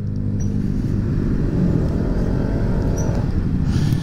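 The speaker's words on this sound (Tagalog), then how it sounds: "Grabe na naman traffic dito" Steady road traffic rumble in San Juan, La Union, a continuous low engine drone from passing cars held at an even level throughout, with no talk.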